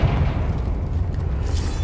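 Confringo fire spell from Hogwarts Legacy going off as a loud, sustained booming blast with a deep rumbling low end and a crackling tail, heard close and alone.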